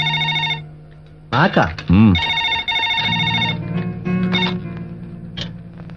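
A telephone rings in a film scene with a bright electronic tone, its pattern repeating with short breaks, while voices and sliding musical sounds come in around it.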